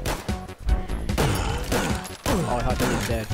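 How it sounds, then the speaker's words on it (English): Weapons fire in the video game Doom 2, a dense, loud burst of repeated shots and crashing impacts running throughout with no pauses. "Who's shooting?"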